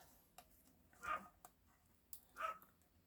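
Two faint dog barks spaced a little over a second apart, distant and muffled, with soft clicks and knocks between them.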